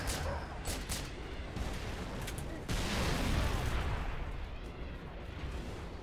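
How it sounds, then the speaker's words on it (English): Dense, rumbling explosions and bursts of gunfire from the video game Halo 3: ODST, loud and continuous, with a heavier blast partway through and a chaotic battle din throughout. "Explosions!"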